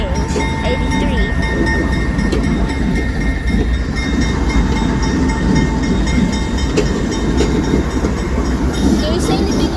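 CSX diesel locomotives switch tracks, a loud steady rumble of rolling rail cars with faint clicking and squealing, and voices talk underneath throughout.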